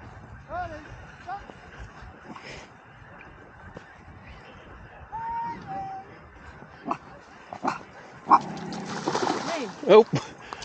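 A dog splashes and paddles in unexpectedly deep water, with irregular splashes that grow louder toward the end, along with a few whimpering yips and people talking nearby.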